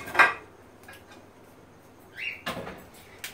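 Clanking of pans and pots being shifted while someone rummages for a frying pan, a sharp metallic clatter at the start, then quieter knocks and a bright scrape, with a louder clunk near the end, close by.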